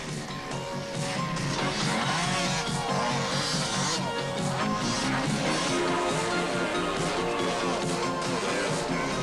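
Enduro motorcycles race across soft sand at the 1987 Le Touquet beach enduro, a dense continuous roar of many engines revving and straining, loud and steady throughout with crowd noise faintly mixed in.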